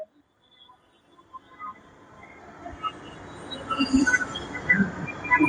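A metro train rumbles and builds steadily from near silence to a loud, continuous roar, with faint squeals of wheels on rails.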